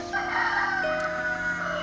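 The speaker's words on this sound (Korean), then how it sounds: "새벽도 아닌데 수탉이 우렁차게 울고 있네요." A rooster crows loudly and steadily in the countryside beside a two-lane road near Gapsa in Gyeryong-myeon, Gongju, one sustained call filling the whole moment with no talk.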